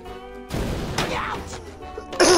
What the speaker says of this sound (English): And cannon's gonna keep firing.